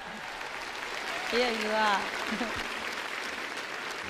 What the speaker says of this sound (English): How about one big round of applause for the star of the evening